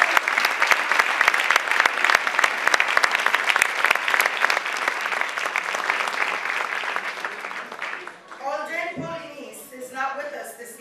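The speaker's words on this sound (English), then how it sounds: "Give a round of applause." Audience applause at a roundtable event, dense and sustained clapping for about eight seconds before it fades and a voice begins speaking near the end.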